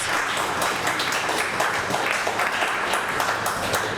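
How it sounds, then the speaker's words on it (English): Audience applause at a chilli eating contest, a steady wash of clapping from a crowd heard close and fairly loud, continuous without a break. "Keep giving them a round of applause"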